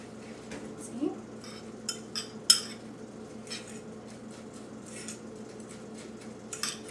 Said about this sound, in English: then I just stir it with a fork